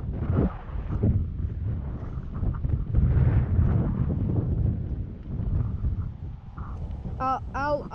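Wind buffets a GoPro Hero 6 helmet camera on a cold, blustery bike ride, a loud constant rumble over the whole stretch, with a voice mixed in under the roar.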